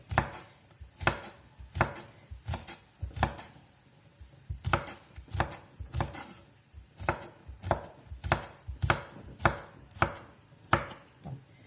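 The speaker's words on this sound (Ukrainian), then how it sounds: "Перчик я вже нарізала і буду його сипати таку миску." Bell pepper being chopped with a knife on a board for a summer salad, a steady series of crisp, close blade strikes repeating about once per half-second, loud and clear with no talk.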